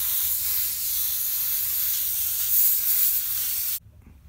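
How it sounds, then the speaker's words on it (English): An airbrush sprays orange paint in big splatters for a rust effect, a steady loud hiss that runs continuously for several seconds before cutting off abruptly, leaving a faint room tone. "I'm just gonna spray a lot of orange on here."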